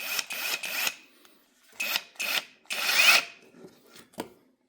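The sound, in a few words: Walmart Hypertough brushless power tool loosening a nut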